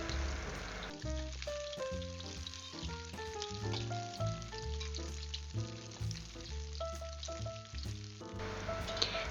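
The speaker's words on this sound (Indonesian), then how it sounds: "Masak sampai warnanya kecoklatan. Jangan lupa juga untuk sesekali dibalik biar matangnya merata." Food frying in hot oil in a pan until browned makes a steady sizzle that runs under louder background music throughout.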